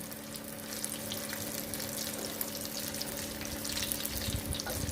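Chicken cutlets frying in oil, a steady close crackling sizzle that continues evenly throughout with no talking.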